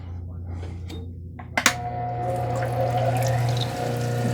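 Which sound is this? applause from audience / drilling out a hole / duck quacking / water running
water running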